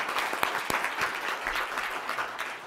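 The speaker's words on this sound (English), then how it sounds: "applause." School board meeting audience claps for finance staff, a dense burst of applause with a few sharp, distinct claps standing out, holding steady before easing slightly at the end.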